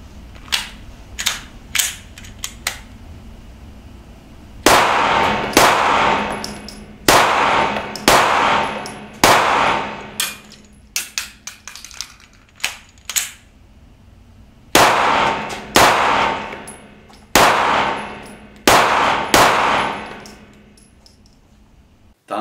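A Smith & Wesson M&P 9 M2.0 Compact 9 mm pistol fired on a shooting range, sharp loud cracks in quick strings and separate groups, each shot ringing briefly before the next.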